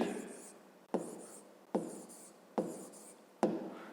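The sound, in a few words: writing on a board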